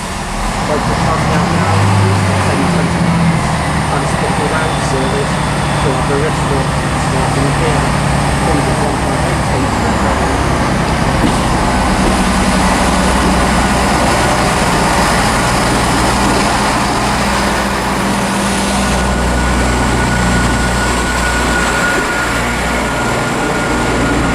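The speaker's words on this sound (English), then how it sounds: "here is 158839 now departing off, forming 10:29 to Aberystwyth" Class 158 diesel unit 158839 departs Shrewsbury station, a steady loud engine rumble and rolling drone lasting the whole time, with someone talking over it nearby.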